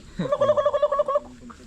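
A rooster gives a single rapid, warbling gobble-like call, close and loud, lasting about a second before trailing off.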